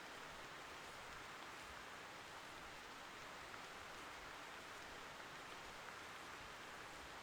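Rain in the hunting game theHunter Classic falls as a steady, dense hiss, unbroken and even throughout, with no voices.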